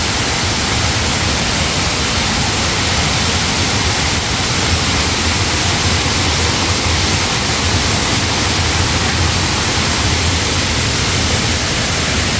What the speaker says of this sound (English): Tons of water, little waterfalls.